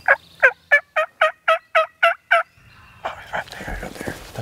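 Wild turkeys gobbling during a Georgia turkey hunt: a loud, rapid series of about nine gobble notes close by, followed by softer, rougher calls.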